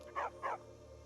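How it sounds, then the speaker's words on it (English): In the video game Skyrim, a dog gives two quick, fairly faint barks in close succession over a quiet background hum. "That's a dog."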